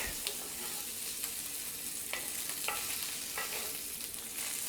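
Breakfast sausages fry with garlic in a cast iron skillet over low heat, a steady close hiss of sizzling broken by several scraping clatters as they are tossed around.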